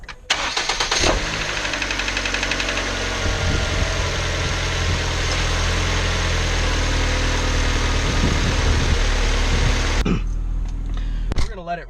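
A car engine cranks and catches, then settles into a steady, loud idle that runs close by and unbroken, with a faint clunk near the start and the end, just after fresh oil has been put in.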